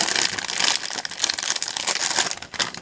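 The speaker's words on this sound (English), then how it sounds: "Sorry for the crinkling." Plastic packaging around resin molds crinkles loudly and continuously close by, with busy rustling and crumpling and no pauses.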